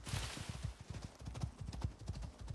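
Horse hooves clip-clopping in the video game Icarus, a steady rhythmic trot of low thuds repeating about twice a second, fairly close and clear with no talk over it.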